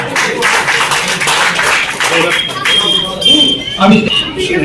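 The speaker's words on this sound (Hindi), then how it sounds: "फिरदौस के लिए जोरदार तालियां हो जाएगा" A crowd claps in a steady patter of applause, fading and mixing with murmuring voices and scattered noise toward the end.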